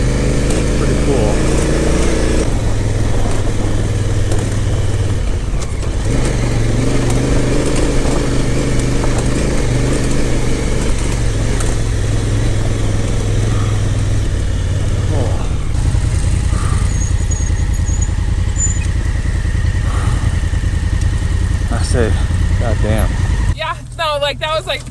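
A motorcycle climbs a forest trail, its engine droning loudly and rising and falling with the throttle for most of the ride before stopping near the end, as a voice talks over it.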